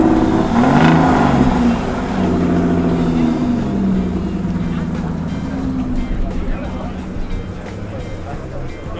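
An exotic car engine revs loudly at a morning cars-and-coffee meet, a strong low rumble that peaks early and then settles into a steady drone, with people talking over it.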